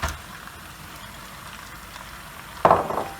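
Meat tipped into a hot pan already holding sausages, with a sudden loud burst of sizzling that sputters on briefly after a quieter background hiss.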